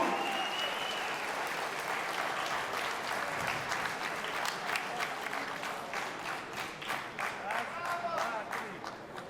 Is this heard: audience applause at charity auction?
yes